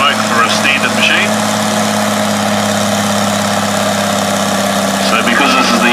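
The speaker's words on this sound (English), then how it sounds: "So this is the Ford County running, I think, in the pre-85 class" A Ford County tractor in the pre-85 class roars at a tractor pull, its engine a loud, steady drone that holds throughout with little change in pitch, over the broad noise of an outdoor event.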